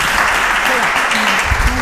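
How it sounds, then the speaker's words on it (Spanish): Loud, close applause from a studio audience on a Spanish quiz show fills the moment, dense clapping with some overlapping voices and cheers mixed in. "Un fuerte aplauso para ellos."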